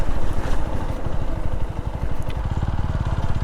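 A motorcycle on a highway ride roars loudly and close, its engine throbbing in a fast, steady pulse under rushing wind, with no voices.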